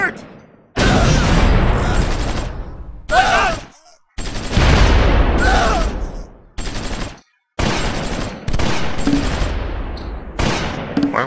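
Heavy gunfire from the Close Combat 5 video game, Battle of the Bulge mod, comes as long bursts of sustained fusillade broken by short gaps, loud and dense.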